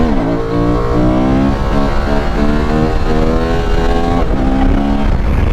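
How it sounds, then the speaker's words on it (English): A Honda motorcycle engine revs loud and close for a wheelie, its pitch rising and falling through several pulls of the throttle with no break in the sound. "I gotta pop a wheelie real quick"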